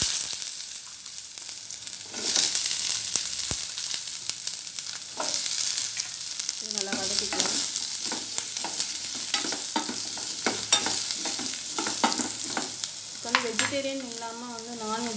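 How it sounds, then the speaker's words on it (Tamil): Onions frying in oil in a pan for a gravy: a constant close-up sizzle and hiss with repeated stirring scrapes against the pan, and bursts of crackling as the pieces move. "இப்போ இதில் வெங்காயம் சேர்த்துக்கிறேன்."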